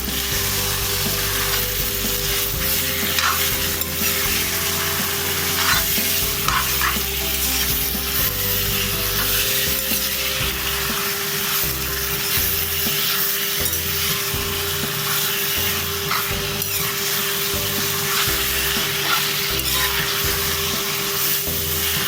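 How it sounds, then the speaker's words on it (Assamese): Duck meat fries and is stirred in a pan for an Assamese-style duck curry, with a steady loud sizzle and scraping stir strokes running throughout, no talking. "মাংসখিনি দি ভালকৈ লৰাই দিছোঁ।"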